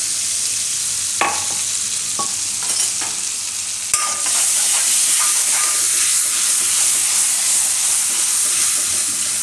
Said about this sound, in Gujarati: થોડીક વાર ફેરવી લેવાનું આ રીતે.